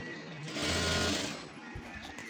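A sewing machine stitches in a short, fast mechanical whir that rises and falls over about two seconds after its bunched bottom thread has been fixed, fairly quiet and close, with faint background noise.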